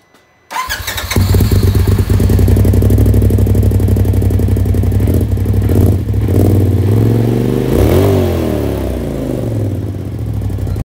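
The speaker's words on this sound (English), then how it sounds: "this is the RJWC APX AL exhaust for the 2017" A 2017 Polaris RZR XP4 Turbo engine with an RJWC APX AL exhaust and stage 3 tune fires up and settles into a loud, rapid, throaty idle, then revs once sharply before dropping back to a steady burble.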